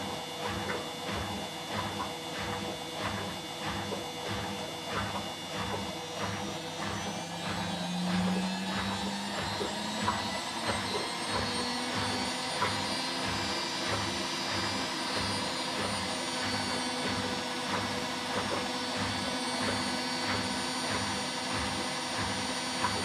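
An Indesit WI101 washing machine spins at 600 rpm, a continuous whirring motor drone with rhythmic drum pulsing and a tone that rises gradually as speed builds.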